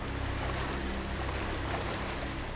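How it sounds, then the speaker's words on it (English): Steady, dense rushing water from a waterfall pours continuously in the video game Darksiders, a uniform hiss with no talk over it. "Why is there, like, this waterfall and water for me to go in?"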